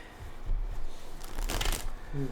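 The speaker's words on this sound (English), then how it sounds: "I will cut the cards before I shuffle" A deck of tarot cards being shuffled by hand: a short, close riffle with quick rattling bursts, under light talk.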